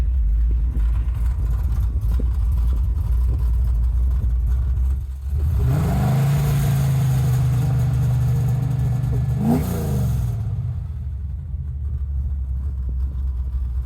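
A 1967 Chevrolet Nova SS 350 small-block V8 with a full roller motor idles with a loud, lumpy, uneven rumble, then revs up, holds a steady higher whine for several seconds and drops back to idle.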